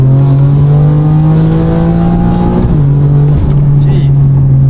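BMW S58 engine with upgraded Spool Performance twin turbos and port injection making 900 wheel horsepower, heard up close as a loud, steady droning engine tone that rises slightly, with a voice talking over it.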